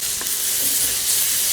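Chicken with onion and garlic sizzles in hot oil in a pan, a steady, close, hissing fry with no talking over it.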